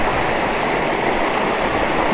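Madhagaja waterfall near Sakleshpura pours in a steady, dense roar of falling water, close and loud throughout with no breaks and no voices.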